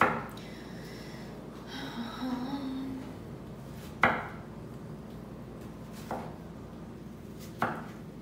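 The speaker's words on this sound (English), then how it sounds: "Okay, so we cut up the veggies." Knife chopping vegetables on a board, a few sharp isolated chops spaced seconds apart over a low background hum.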